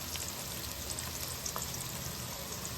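Chopped garlic fries in hot oil in a pan for a fish curry, a soft, steady sizzle with faint crackles and pops throughout.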